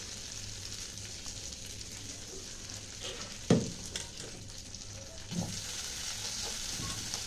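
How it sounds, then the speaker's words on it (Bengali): Potatoes and chopped onion frying in oil in a pan over a low gas flame, a steady soft sizzle throughout with a couple of brief louder clatters of stirring. "তো আলু পেঁয়াজ ভাজা হচ্ছে"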